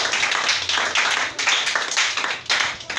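A church congregation claps together in acclamation of Jesus Christ, a dense and steady stream of hand claps filling the room with no voices standing out.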